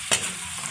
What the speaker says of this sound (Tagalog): kamatis, sibuyas at bawang. Ginigisa na po natin mga kaguro.